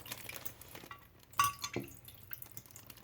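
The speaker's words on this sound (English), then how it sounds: "Now it's dribbling like crazy." Water dribbles and drips from a leaking plastic bag pierced with pencils in a home science experiment, giving faint irregular trickles and a few splashy drips with light clinks, close by and without talk.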